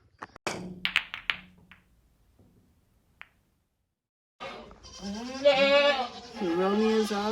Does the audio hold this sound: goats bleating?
yes